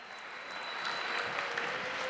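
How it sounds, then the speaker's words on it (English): An audience applauds at the F1 in Schools World Finals 2019 in Abu Dhabi, a dense, steady wash of clapping that swells slightly and holds throughout. "This is your applause"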